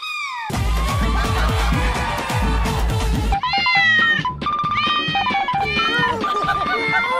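Several loud, drawn-out tomcat meows and yowls follow one another in quick succession, close and shrill, mixed with other vocal noises.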